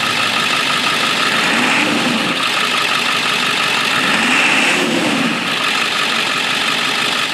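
A lifted 2001 Ford Excursion with a 7.3 diesel engine runs loud and close, a steady rumbling drone that swells gently as it revs, with no talking.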